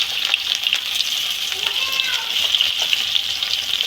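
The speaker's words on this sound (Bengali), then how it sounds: "এখানে দেবো পেঁয়াজ কুচি" Chopped onions sizzle in hot oil in a home kitchen pan, a steady, close, bright hiss running evenly throughout with small crackling pops.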